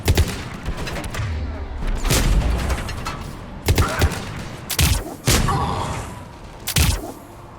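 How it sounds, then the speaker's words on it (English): Mass Effect 3 combat gunfire against Cerberus forces, with repeated heavy booming shots and volleys over a dense rumbling battle bed, loud and close. "Just shoot at it."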